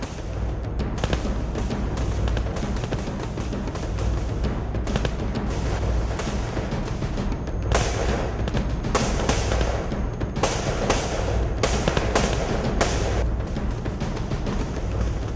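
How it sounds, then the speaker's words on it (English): Intense gunfire in a jungle firefight between Malaysian VAT69 commandos and communist insurgents, a dense, sustained barrage of loud cracks and bursts layered over a continuous rumble, with no voices. "And an intense firefight started."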